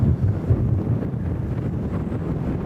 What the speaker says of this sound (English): Wind is murdering that.